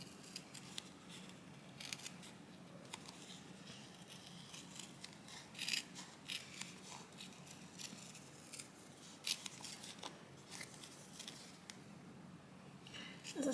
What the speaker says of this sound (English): all we're going to do is just cut it out really carefully